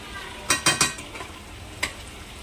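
Chicken masala being stirred and fried in a pan, a few quick scraping stirs and clinks over a soft, steady sizzle, close and fairly quiet.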